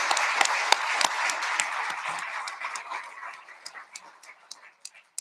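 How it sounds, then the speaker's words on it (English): Audience applause for nominees at the Bram Stoker Awards ceremony, a dense burst of clapping with sharp individual claps standing out, gradually thinning and fading toward the end, with a dog panting and whimpering close by. "give a chance for every single nominee to get a round of applause"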